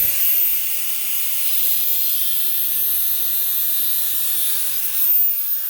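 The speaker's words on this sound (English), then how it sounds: "Just a real quick cut with a grinder." Angle grinder cutting through a snow chain link clamped in a vise, a steady high-pitched whining hiss with a faint low hum underneath, continuous and close throughout.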